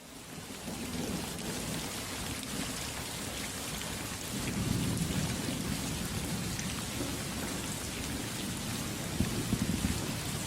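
Summer desert thunderstorm with steady heavy rain pouring down and low rumbling thunder swelling midway, a continuous wash of sound with no voices.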